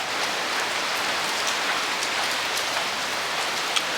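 Steady rain pours down in a dense, even hiss, with scattered drops pattering on a nearby surface and no voices, at Shirakawa-go, Japan.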